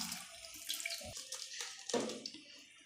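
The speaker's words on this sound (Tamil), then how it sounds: "தண்ணி ஊற்றிக்கலாம்" Water pours and splashes into a kitchen vessel while making urad dal porridge, a short, close, fairly quiet burst of running water with uneven gurgles.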